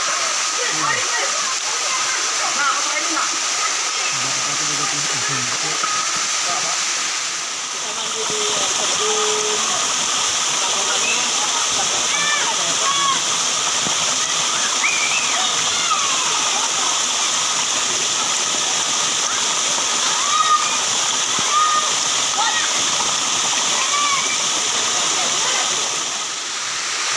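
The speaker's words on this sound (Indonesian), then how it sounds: "Ini dia di air terjun guys, di poso guys." A loud, constant rush of water from a waterfall in Kampung Makatip, Tambunan, fills the whole stretch, broadband and steady, with faint voices occasionally audible beneath it.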